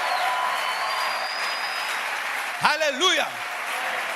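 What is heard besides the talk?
church congregation applauding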